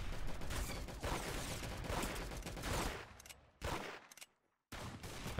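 Gunfire in the Roblox game Arsenal: rapid bursts of shots, loud and close, coming in clusters with brief silent gaps near the end.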